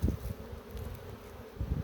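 Honey bees buzz steadily around an open hive while frames are pulled for the honey harvest, a close, low drone with a few louder passes near the start and end.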